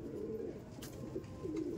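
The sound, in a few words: pigeon cooing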